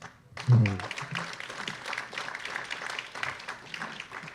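An audience at the Huntington Beach Chamber 2024 candidates forum claps for the candidates in a sustained round of applause, with a voice speaking over it.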